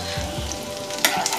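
Chopped garlic hits hot oil left from frying egg pakoras, giving a loud, continuous close sizzle and crackle with a sharp burst near the end and no talking.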